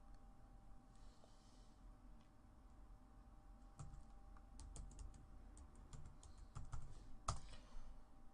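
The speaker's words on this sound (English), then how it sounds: "So let's type in PowerShell." Keys clatter on a computer keyboard while a command is entered into Windows Server 2012 PowerShell, soft and steady at first, then sharper, denser bursts of clicks toward the end, with no voices.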